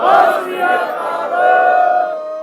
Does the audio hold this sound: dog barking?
no